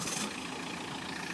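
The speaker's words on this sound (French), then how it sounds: "je vais vous montrer le moteur démarrer sur ce véhicule" A car engine runs at a steady idle during a French clutch-wear check, a low, even rumble with a brief brighter burst at the very start and no talking.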